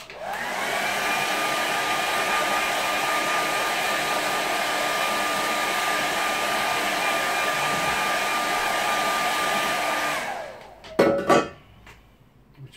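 A hair dryer blowing on watercolour paint, a loud steady whirring drone for about ten seconds that then switches off, followed by a few brief clicks and handling sounds.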